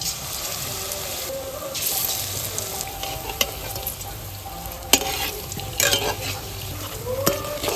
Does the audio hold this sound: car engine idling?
no